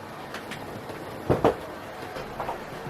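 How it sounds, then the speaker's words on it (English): A Hornby model locomotive running around its track, a soft, continuous rolling rumble with a few faint clicks as the wheels pass rail joints, slightly louder bumps midway, and no talking. "Now we'll just let you watch my locomotive go round the track."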